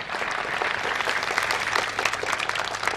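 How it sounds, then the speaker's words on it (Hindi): An audience at a large public event applauds steadily, with dense, continuous clapping that holds at an even, fairly loud level throughout. "जोरदार ताली एक बार फिर से।"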